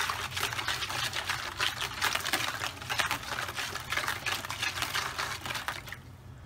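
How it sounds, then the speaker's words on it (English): A whisk beats yeast, sugar and warm water in a bowl with quick, rhythmic scraping and sloshing strokes, loud and close, stopping abruptly at the end. "Now you just want to give that a whisk and mix it all up."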